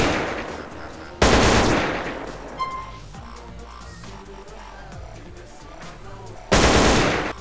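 A modded M4 rifle in GTA San Andreas fires two loud, sharp bursts of automatic gunfire, one near the start and one near the end, separated by quieter in-game ambience and clicks.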